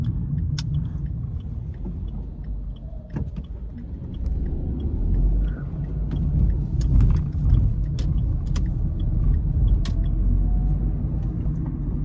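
Steady road rumble and engine drone from inside a Dacia Logan car driving along the road, with faint rattles and ticks throughout, growing slightly louder partway through, no talking.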